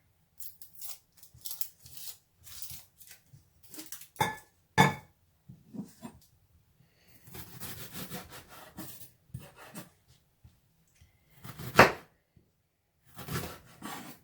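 A knife trims the rubbery edges of a leftover red onion half on a board, giving quiet, intermittent scraping and cutting strokes in short bursts, with a couple of sharper clacks.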